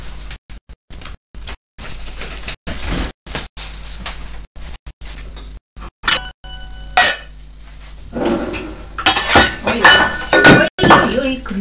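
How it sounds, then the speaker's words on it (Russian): A pot lid falls and clatters, a sharp metallic crash with rattling during an indoor meal, fairly loud after a stretch of choppy background noise and a cough. "Крышка упала."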